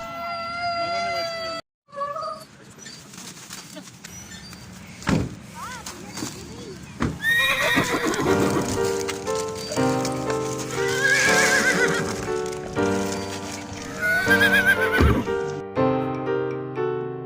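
A horse on a ride neighs in several loud, drawn-out whinnies while hooves clip-clop rhythmically beneath, with voices and other sounds mixed in among the calls.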